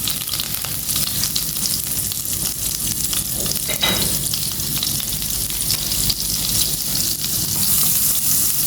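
Chicken curry sizzles and fries steadily in a pan just after fish sauce goes in, a loud, close, continuous crackle with occasional stirring and no talking.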